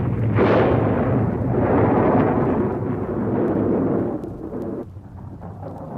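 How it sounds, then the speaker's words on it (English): Rumbling thunder during a storm with lightning, accompanied by a shaking earthquake, a loud continuous low roar with a sharp burst near the start that swells and then gradually eases off. "it's beginning to thunder and lightning, and I feel an earthquake"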